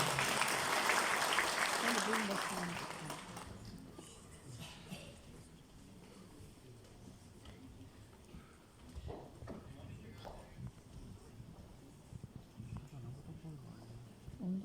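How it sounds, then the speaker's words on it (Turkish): Audience applause at a Turkish stage event as a professor is invited up, a dense clapping wash loudest for the first few seconds before thinning into lower crowd murmur and scattered claps. "Sayın Profesör Doktor Engin Dinç hocamızı alkışlarınızla sahneye davet ediyorum."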